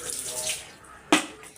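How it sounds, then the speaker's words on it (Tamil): Water is poured over the cut area of a freshly cut tharani fish, a soft trickling splash followed by a brief, sharper burst of pouring. "வெட்டின இடத்துல தண்ணி ஊற்றிட்டுருவோம்"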